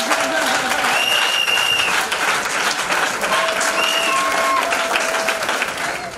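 Congregation applauding loudly and steadily at a praise-and-worship welcome gathering in Koumé, the clapping dense and sustained with crowd noise and occasional voices mixed in.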